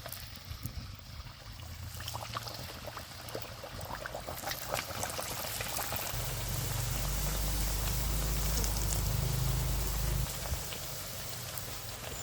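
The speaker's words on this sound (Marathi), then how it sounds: "तेल चांगलं गरम झालं आहे आता पुऱ्या सोडून घ्यायच्या" Masala puris made with bajra and methi sizzle in hot oil, a steady dense crackle that grows louder and fuller partway through as the puris are dropped in. No one speaks.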